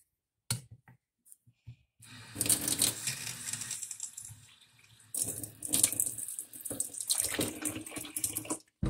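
Water gushes from a tap in two bursts separated by a quiet pause, splashing into a sink with some clattering in between.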